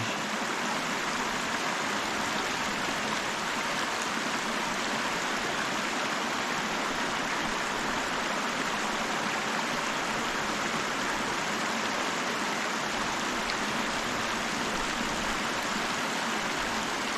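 A creek flows steadily nearby, a constant broadband rush and gurgle of moving water at even loudness with no voices over it.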